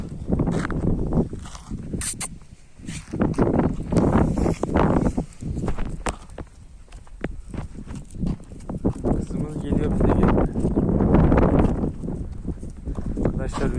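Wind buffets the microphone in heavy, low rumbling gusts that rise and fall throughout, with occasional rustling and a voice partly masked.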